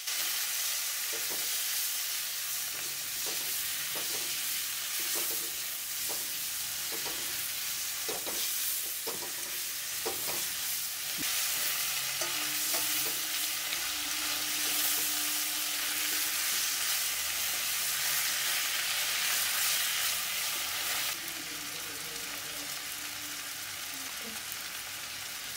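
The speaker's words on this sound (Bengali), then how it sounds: "এখন ওই তেলেই চিংড়িগুলোকে দিয়ে নুন হলুদ দিয়ে কিছুক্ষণ ভেজে দিয়ে দেব জিরে গুঁড়ো, ধনে গুঁড়ো, লাল লঙ্কা গুঁড়ো" Prawns frying in oil with salt, turmeric, cumin, coriander and red chilli powders, a constant hissing sizzle with frequent spatula scrapes and stirring knocks early on, alone without talk.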